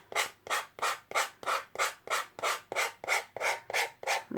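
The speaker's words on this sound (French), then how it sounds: "je vais passer une lime à ongles." A nail file rasps over dried excess glue on a small craft piece, a steady run of about twelve even back-and-forth strokes, close and clear, with no talking.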